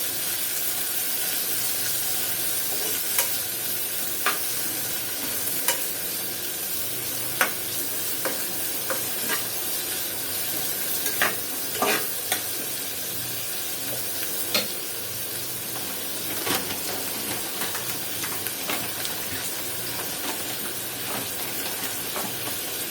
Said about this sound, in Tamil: இப்போ வெங்காயம் வந்து பார்த்தீங்க அப்படின்னா நல்லா பொன்னிறமாக வந்து வதங்கட்டும்.